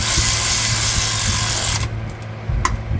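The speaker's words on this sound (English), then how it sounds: "I'm gonna go ahead and spin these down with the ratchet" A ratchet spins down lug nuts on a Dodge D-150 pickup, giving a fast, continuous clicking whir up close that stops abruptly partway, followed by a few faint metallic clinks.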